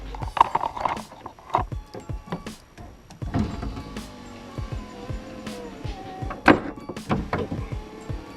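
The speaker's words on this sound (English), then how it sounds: "now let me take the motor and drive it up and down, and let's hear what it sounds like" A 1989 Lotus Esprit power window motor runs up and down, giving strained whirring runs broken by clicks, knocks and handling clatter, close and uneven over about eight seconds.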